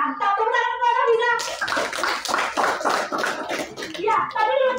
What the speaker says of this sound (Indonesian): Tepuk tangan untuk Hafiza.